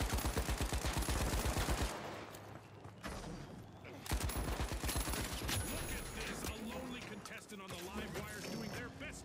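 Rapid automatic gunfire rattles in fast bursts in The Finals video game, loud and close, with further scattered shots and bursts following as someone talks over the action.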